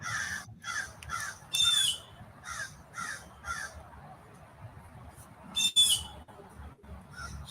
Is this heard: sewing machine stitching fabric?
no